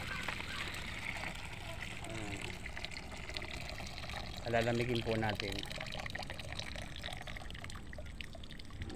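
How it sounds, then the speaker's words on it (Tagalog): Water pours and splashes into a basin, swelling briefly louder midway, while a person talks over it. "Atin na po siyang sasalin sa isang planggana."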